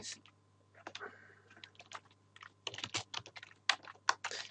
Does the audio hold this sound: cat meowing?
no